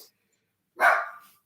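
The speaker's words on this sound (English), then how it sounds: "My dog's barking." A small pet dog barks indoors in one loud, sharp burst that trails off, following a brief faint sound and near silence.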